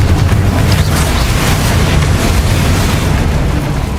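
Confringo, an explosive spell cast in Hogwarts Legacy, sounds as a loud, sustained roaring blast with dense rumbling low end and no voices over it.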